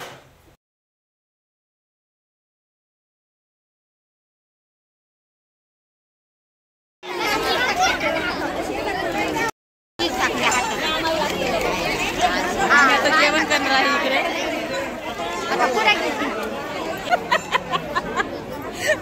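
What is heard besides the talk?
crowd chatter at Ram Navami community meal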